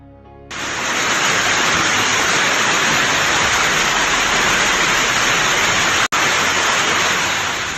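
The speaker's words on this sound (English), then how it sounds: "A hurricane with large hailstones swept through the Indian state of Gujarat" Loud, dense roar of a hailstorm with large hailstones in Gujarat, India, a constant broadband rush that starts abruptly and continues steadily with a brief dropout near the end.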